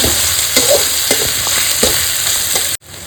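Crushed garlic stir-fried in a pan for a saltwater gurjali fish curry: a steady close sizzle with periodic scraping stirs, ending in a brief cut before the frying resumes.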